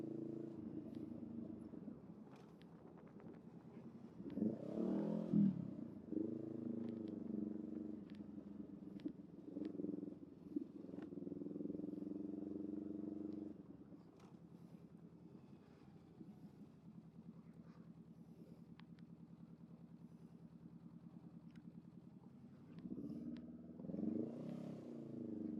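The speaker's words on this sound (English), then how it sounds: "This exhaust is definitely a little bit louder, that's for sure." Motorcycle with a loud aftermarket exhaust rumbling in afternoon commuter traffic. Steady engine drone rises and falls through gear changes and throttle blips, heard from the rider's position over wind noise.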